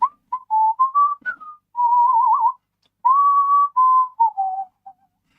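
A person whistles a wavering tune in short clear phrases with brief pauses between them, close and alone with no other sound.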